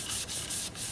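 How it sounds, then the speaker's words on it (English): Sandpaper rubs steadily over turned paper bark tree wood, a loud, close, continuous abrasive hiss with short rhythmic pauses as the strokes change. "So I gave it a sanding. I went through all the grits"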